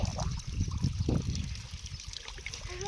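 Water runs from a borewell outlet in an outdoor field, trickling and splashing irregularly at close range, fairly faint, with light background noise.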